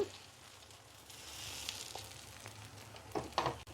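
Appam batter sizzling in an iron pan, a soft, quiet hiss that swells gently, with a few louder clinks near the end.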